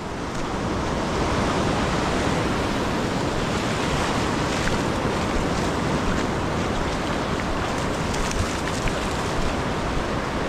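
Sea waves wash onto a beach during a day of training on the shore, a steady, loud roar of surf and churning water with wind buffeting the microphone throughout.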